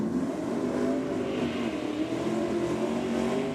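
A Ford Falcon race car roars down a drag strip, its engine a loud, sustained, steady drone heard at close range with no voices over it.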